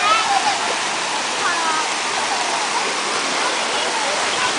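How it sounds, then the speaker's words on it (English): Water pouring and splashing at a kids water park at a Myrtle Beach condo resort, a steady loud rushing cascade like a small waterfall, with faint voices in the background. "that end up pouring water everywhere."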